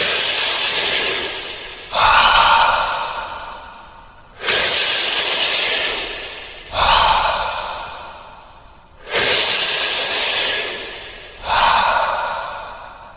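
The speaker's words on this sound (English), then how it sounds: "we will begin by taking a deep breath in and out." Slow, deep breaths in and out, each long inhale followed by a softer exhale, repeated three times, close to the ear with no talking.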